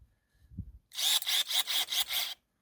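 A Krafftec cordless mini saw cuts through branches outdoors in freezing cold, a short handling knock giving way to about 1.5 seconds of loud, steady buzzing cutting with a rapid pulsing rhythm.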